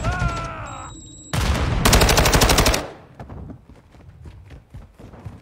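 Dual guns in a video game unleash a dense, loud burst of rapid automatic fire lasting over a second, then trail off into scattered lighter shots and clattering.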